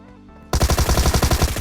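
Automatic gunfire in a battle royale video game bursts in abruptly after a quiet moment, a loud, rapid, evenly spaced stream of shots close by.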